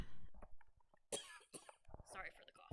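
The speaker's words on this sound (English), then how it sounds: "Sorry for the cough, guys." A single person coughs sharply a couple of times near the middle, a quiet close sound amid soft breathy throat noises and light mouth sounds.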